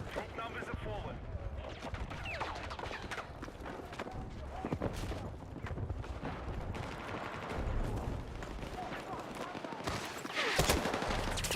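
Unsuppressed gunfire from a teammate in Battlefield 6, scattered shots and short bursts over a dense battlefield din, with a player talking over the action.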